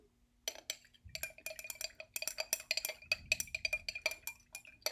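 A metal spoon stirs cornstarch into water in a glass, quick bright clinks ringing against the sides in an irregular rapid rhythm, close and fairly quiet.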